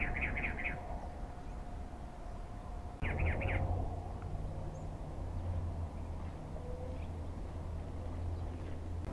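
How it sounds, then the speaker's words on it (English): Desert birds near Desert Hot Springs and Joshua Tree give short, bright chirping trills in two brief bursts, moderately close, over a steady low outdoor rumble. "It's pretty dope to hear all these unique bird sounds and bird calls that you don't hear in the valley"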